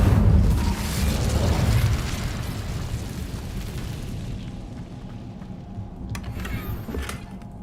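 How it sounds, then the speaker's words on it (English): A fire spell from Hogwarts Legacy bursts with a loud whooshing roar at the start, then fades into a lingering low rumble and crackle, ending with faint magical chimes. "Incendio!"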